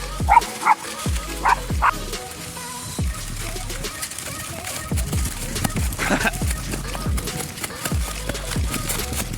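Repeated dog barking, steady and fairly close, continuing for several seconds with a couple of higher yelps near the start.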